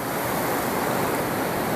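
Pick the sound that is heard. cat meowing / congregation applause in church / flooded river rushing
flooded river rushing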